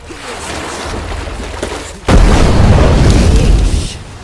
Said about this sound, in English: Oh, flare gun. Time to use it, I guess.